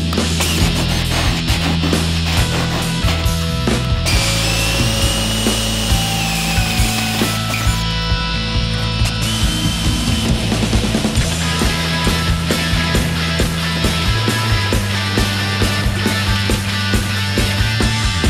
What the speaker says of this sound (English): I think I've drilled enough speed holes for one day